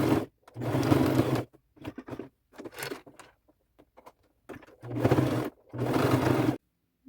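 A sewing machine stitching around three sides of a thrifted fringe boho bag seam, running in several loud close bursts of steady whirring with short pauses between passes.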